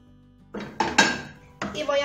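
Vegetables being stirred into cooked chicken in a pan with a utensil: a few close metallic clanks and scrapes of spoon against pan in short bursts, after a quiet start.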